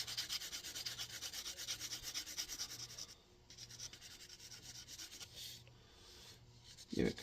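Chalk swiped across a dirty sidewalk while drawing, a series of close, rhythmic dry rubbing and scraping strokes that ease off halfway through, ending with a brief bump.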